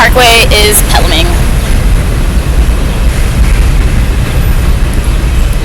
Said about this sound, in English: Subway's going by, you guys.